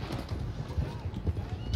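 Horse hooves clip-clop in a rough Western setting in Red Dead Online, a short, muffled run of close, low thuds under ambient game noise.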